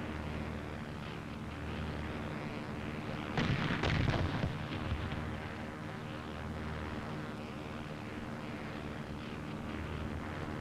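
Bombs explode on practice target replicas, heard as a faint distant burst of rumbling blasts partway through, over the constant drone of aircraft engines.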